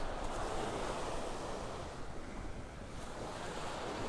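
Ocean surf on Vanderbilt Beach in North Naples, Florida, a steady broadband wash of breaking waves mixed with wind buffeting the microphone, no voices.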